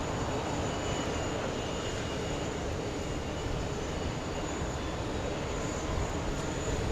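An airplane flies the RNAV approach to runway 22 left at JFK. A broad, steady engine roar fills the whole stretch, with no talk over it.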